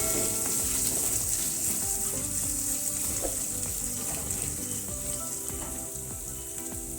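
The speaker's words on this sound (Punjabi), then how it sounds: "ਅਦਰਕ ਲਸਣ ਨੂੰ ਭੁੰਨਾਂਗੇ" Ginger and garlic fry in a pan with a loud, continuous sizzle and intermittent scraping and clinks of stirring close by. No one speaks.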